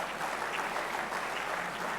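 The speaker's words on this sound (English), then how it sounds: "Please give a big round of applause." Audience applause at a convocation in an auditorium, dense, sustained clapping from many hands heard at a moderate distance, steady throughout with no voices.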